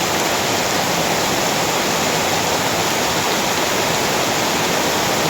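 Heavy rain pours during a storm with lightning, a loud, steady wash of broadband hiss holding constant for the whole stretch, close and unbroken, with no voices.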